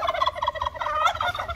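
A group of turkeys gobbles continuously and loudly at close range near a duck and goose pen, overlapping warbling calls filling the whole stretch without any talk.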